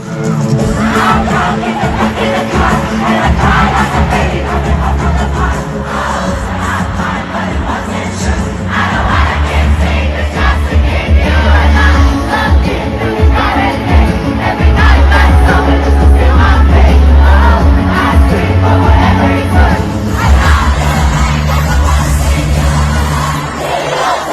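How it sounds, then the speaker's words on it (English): A huge stadium crowd at a concert in Mexico City sings and shouts along to a song, a loud, dense roar of voices that swells and holds throughout. "You're singing the words so loudly."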